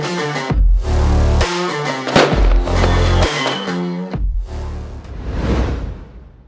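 Rajkala fireworks, including Dolu and Bolu shells, a Silver Fountain and Red Shot, go off in heavy booming bursts with sustained crackling and fizzing, loud and close, with a few sharp bangs between.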